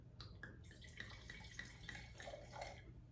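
Wine being poured into a glass, a faint trickling and splashing stream with a few small drips, heard alone against a quiet room hum.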